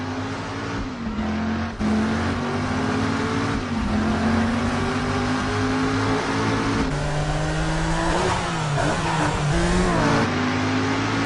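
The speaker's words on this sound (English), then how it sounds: "a car chase between Tanner and Jericho" A car chase in the video game Driver San Francisco: continuous loud engine roar with repeated revving and shifting pitch, plus brief tire squeals and impacts, with no talking over it.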